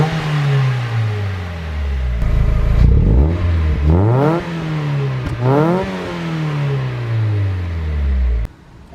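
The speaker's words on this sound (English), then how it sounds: "we're going to go ahead and start the car up" A 2002 Mazda Miata engine with a Racing Beat muffler starts, settles into idle, then gets two or three sharp revs that climb and drop back before it cuts off. It is loud and close, with no talking.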